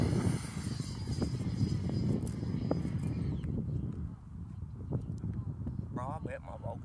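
A Freewing Mirage 2000 80mm RC electric ducted-fan jet whooshes past on a speed pass, a loud rushing roar that fades after a few seconds as voices talk over it.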